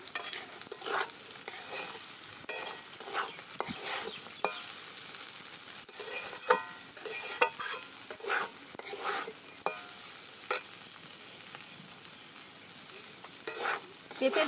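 Sliced potatoes and papaya flowers fry in a pan, a soft steady sizzle broken by repeated scraping and stirring strokes of a utensil against the pan.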